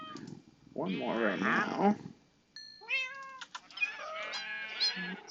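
Cats bred in the Minecraft video game give several soft, close in-game meows, one after another, while someone talks over them.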